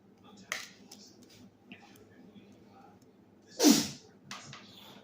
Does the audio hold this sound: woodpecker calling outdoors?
no